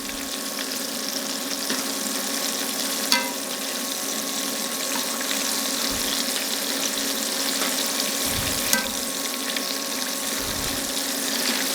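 Chicken pieces for orange chicken fry in a pan, giving a steady, close sizzle with a broad hiss throughout and a couple of faint clinks of stirring, with no talking.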